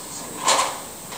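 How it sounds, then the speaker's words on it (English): A sliding door on a Custom Life standard Java cabin rolls open in one short, smooth swish, close and brief against a quiet background. "sliding doors. These doors, of course, open right up."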